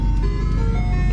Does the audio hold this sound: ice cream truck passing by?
yes